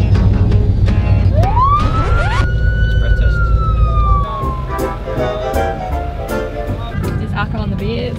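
A police siren gives a rising whoop and wail close by at a roadside breath-test stop, loud over a running car engine, with voices talking through it.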